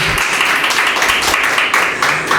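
An audience at a Hindi poetry recital breaks into steady, dense clapping, a continuous wash of applause close and fairly loud throughout.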